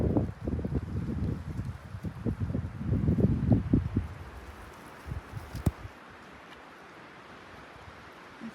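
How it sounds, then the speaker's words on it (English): Gusty winter wind blows outdoors while winter camping in Killarney, a loud low rumble buffeting the microphone for about four seconds, then easing to a softer hiss with a few brief knocks. "I found the wind. It's up here."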